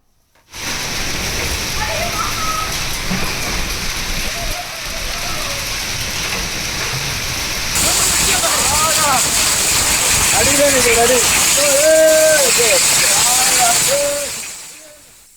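Heavy hail and rain fall in the Mettupalayam and Karamadai area of Coimbatore district, a loud continuous rushing hiss that swells partway through, with people's voices talking faintly underneath.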